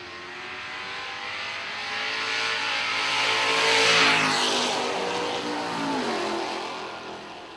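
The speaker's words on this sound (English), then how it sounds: "Henry Diani and Darren Gebhardt going down the racetrack." A drag race car roars down the racetrack, its engine swelling steadily to a loud, close peak as it passes, then fading slightly with a final surge.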